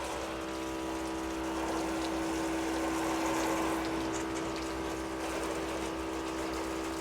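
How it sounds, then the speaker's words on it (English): Water flooding through freshly cleaned gutters on a luxury home's garage, a steady dense rush and gush of flowing water, constant and moderately distant with a faint pump hum beneath. "So I'm just going to flood them out with some water."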